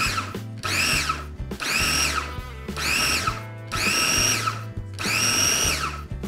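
A blender on its puree setting whirs through red lentils for a pizza crust batter, running in four loud bursts that each rise in pitch as the motor speeds up, with short pauses between them.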